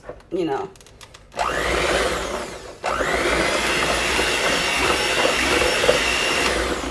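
Electric blender whirring loudly and steadily as it mixes thick custard for brioche cinnamon French toast, starting after some brief clatter, cutting out for a moment, then restarting and running continuously.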